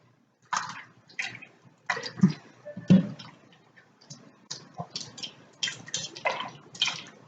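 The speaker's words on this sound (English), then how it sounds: "I'm going to swish it around a bit. Make sure it's well covered with the orange juice" Salmon fillets swished around in orange juice for a citrus herb dish in a quick cooker, giving a series of close, wet sloshing bursts in an irregular rhythm with short pauses between, no talking.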